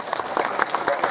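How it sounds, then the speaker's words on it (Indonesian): Brief burst of audience applause for Ibu Jelin during a religious talk in Cimahi, scattered claps mixed with a voice speaking over them. "Tepuk tangan untuk Ibu Jelin."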